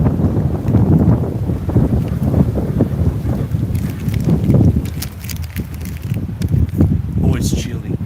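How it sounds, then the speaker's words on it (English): Gusty wind at a park buffets the microphone in loud rumbling bursts, with a few faint ticks and rustles in the background. "then those gusts of wind come"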